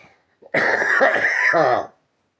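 A hoarse, harsh cough burst lasting over a second, loud and close, followed by a short raspy throat-clearing tail; no talking.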